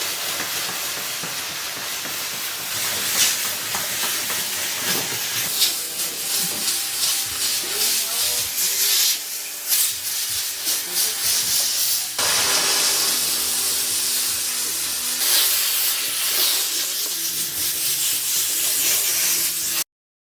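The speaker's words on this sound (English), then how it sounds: "So I'm using the Karcher steam washer with a brush on the end, and it's coming off lovely." Karcher steam washer fitted with a brush head scrubbing grimy kitchen wall tiles and grout, giving a loud, steady hiss and spray with scrubbing texture that runs throughout with brief dips.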